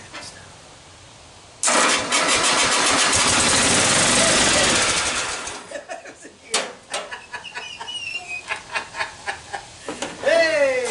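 An engine with the choke fully on cranks and catches, roaring loudly for about four seconds before sputtering and dying into irregular bursts, with an excited voice and a rooster-like squawk near the end.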